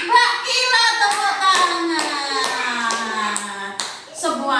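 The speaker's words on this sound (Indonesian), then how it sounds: "Tepuk tangan." Children in a kindergarten classroom clap in a series of sharp bursts, with young voices singing or calling along underneath.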